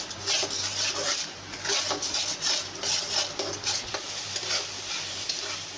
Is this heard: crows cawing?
no